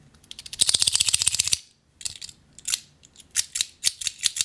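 Rapid mechanical clicking from a Gao Studio rifle fidget toy being worked by hand, a dense ratcheting burst followed by several separate sharp clicks at close range, with no talking.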